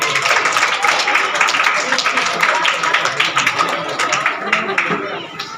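A crowd claps steadily in dense, continuous applause at a school event, fairly close, with voices mixed in throughout.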